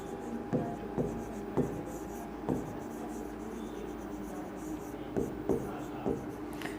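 Chalk or marker strokes on a classroom board make soft, scratchy taps in short irregular clusters, heard under a low background hum alongside quiet talk.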